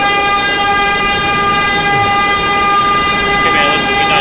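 An N subway train runs at Coney Island, with a steady loud rumble and sustained bright tonal whine throughout, close by and with no talking.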